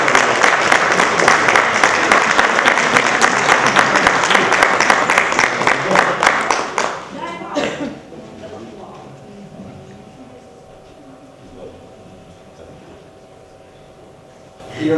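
Audience in a theatre bursts into loud sustained applause for an amateur drama troupe receiving an award, the clapping cutting off abruptly midway, followed by a quiet room with a faint hum and a brief swell of sound at the close.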